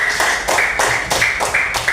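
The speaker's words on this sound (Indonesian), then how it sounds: "tepuk tangan dulu untuk Barik." A small group claps together in a classroom, a close, loud sequence of rhythmic synchronized claps at steady intervals, about every quarter second, with no talking.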